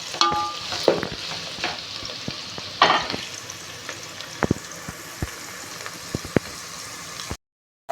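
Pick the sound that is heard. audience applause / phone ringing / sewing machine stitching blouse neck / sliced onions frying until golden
sliced onions frying until golden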